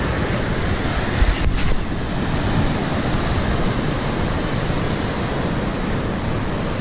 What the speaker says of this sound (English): The big wave coming.